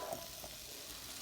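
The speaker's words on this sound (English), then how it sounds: "Look at those glorious sauteed onions and potatoes." Potatoes and onions sauté gently in a covered pan, a faint, soft, brief sizzle with no voices.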